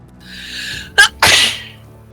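A single close, loud human sneeze: a sharp breathy intake followed a moment later by the explosive burst, which trails off quickly. No talking.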